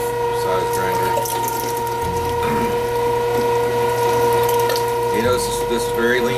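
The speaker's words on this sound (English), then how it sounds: "The number 5 size grinder." A number 5 size meat grinder works through lean beef for jerky, a continuous mechanical whir with a steady motor hum and intermittent clicking and squishing pulses close by.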